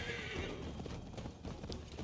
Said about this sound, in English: Guys, can you just let me ride my horse?